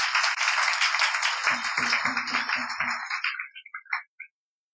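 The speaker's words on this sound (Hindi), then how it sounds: "तो सभी लोग जोर से एक बार ताली बजाएं।" A congregation at a Hindi-language church service claps loudly in fast, dense bursts, with a voice briefly heard beneath it, before the clapping thins out and stops.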